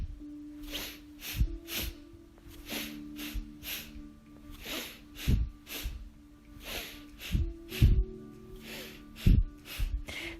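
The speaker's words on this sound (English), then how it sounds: "it's very much a sort of breath of fire with 2 breaths out" Yoga breath of fire, a series of sharp nasal exhales in quick pairs, close and fairly quiet, repeating rhythmically with short pauses between bursts.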